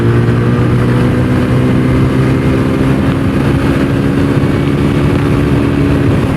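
A TVS Apache RTR 160 4V motorcycle accelerates in fourth gear with a loud, steady engine drone and wind rush, heard close up from the rider's position without pause.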